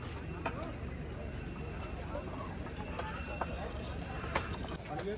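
Horses and mules on the Kedarnath pilgrimage trail, with scattered hoof clip-clops over a busy crowd murmur and steady outdoor background noise, a few sharper hoof strikes standing out.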